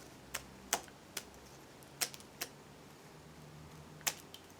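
Sharp, scattered clicks and flicks as a card is flicked around a die-cut shape to pop the pieces free, about half a dozen quick taps at uneven intervals, close and fairly quiet.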